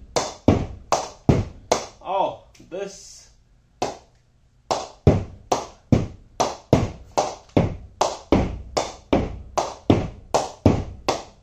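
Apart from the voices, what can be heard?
cricket bat being knocked with a ball, ping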